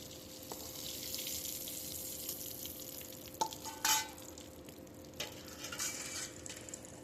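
Sliced potato and bitter gourd fry in a pan with turmeric under a faint, steady sizzle, broken by a few sharp clinks and scrapes of a spatula stirring, with no talk.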